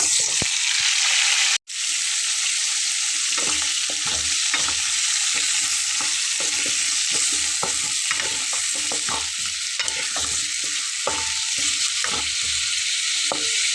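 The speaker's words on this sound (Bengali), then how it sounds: "এটাকে একটু লাল লাল করে আমি ভেজে নেব" Spices fry in a pan for a Bengali kakrol dish with a loud, constant sizzle, briefly cutting out near the start, while repeated scraping stirs of a spatula sound close up.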